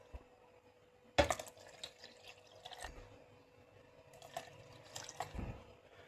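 Water poured into passion fruit juice at home, a sharp splash at the start followed by a soft, fairly faint trickle and light liquid noises.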